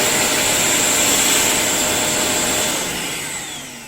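A Vacmaster VQ1220PFC wet/dry vacuum cleaner runs steadily with a loud, continuous motor whine and airflow hiss that begins to wind down and fade near the end.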